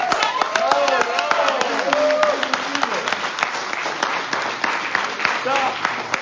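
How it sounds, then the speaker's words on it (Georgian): A crowd at a Georgian rally applauds: dense, continuous clapping with sharp individual claps close by and voices shouting and talking over it. "ოვაცია"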